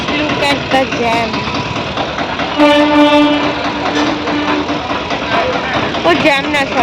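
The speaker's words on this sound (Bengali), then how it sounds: "ও জ্যাম না, সরি, ট্রেন ঢুকছে" A train pulls into the station at Basirhat, its horn sounding a sustained, loud tone amid rumbling wheels and engine noise, close by, with bursts of other horns and crowd din around it.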